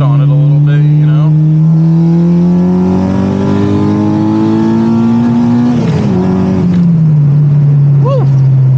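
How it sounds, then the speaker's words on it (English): A Honda RSX with a K20 engine downshifts, then accelerates hard, its loud, rising engine note climbing steadily before a brief gear-change dip and a settling tone. "let's give it a little downshift"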